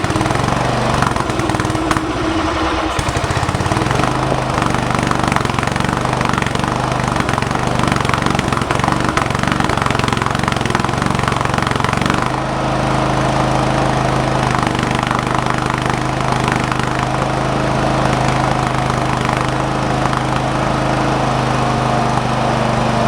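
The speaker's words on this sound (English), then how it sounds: "My other carburetor seemed to be working fine, but it wasn't idling very smoothly." A Kawasaki FB460V small engine with a dirty carburetor runs loud and close, a rough, uneven drone that shifts pitch around a few seconds in and again near the middle.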